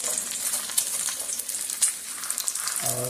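Egg frying in hot oil in a pan for a fried egg sandwich, a dense, bright, continuous sizzle with fine crackles and a few sharper pops, close and steady with no talking.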